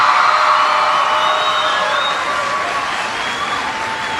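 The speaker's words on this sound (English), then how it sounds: "Give yourselves a big round of applause." A large crowd of young students cheering and whooping at a school speech, with some clapping mixed into the loud, sustained noise.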